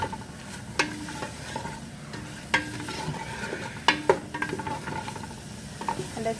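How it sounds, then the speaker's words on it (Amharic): Spices fry in a hot pan for a meat soup, with a steady sizzle broken by sharp, repeated scrapes of a spoon stirring them. No one speaks. "እነዚህ ያሳያችሁ ቅመማ ቅመሞች እንደዚህ በደንብ ተጠብሳላችሁ ማለት ነው።"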